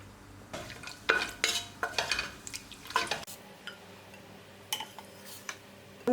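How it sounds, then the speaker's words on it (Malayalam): Cashew nuts frying in coconut oil for chicken biryani, a gentle sizzle broken by a cluster of spoon scrapes and clinks against the pan, then quieter bubbling with a few scattered ticks, close and soft. "അണ്ടിപ്പരിപ്പ് അതേപോലെ തന്നെ വറുത്തെടുക്കുക."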